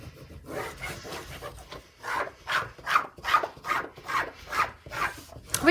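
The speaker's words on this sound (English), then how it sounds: "I'm going to turn this over, and again I'm going to rub from the back." A folder tool rubs firmly across the back of a sheet of paper in a steady series of rasping, scraping strokes, roughly a dozen evenly spaced passes heard up close with no talking.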